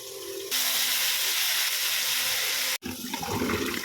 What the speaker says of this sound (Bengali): প্রতিদিনের মতো চাল ধুয়ে নিচ্ছি, এই ছোটো হাঁড়িতেই করি 1 কৌটো চাল।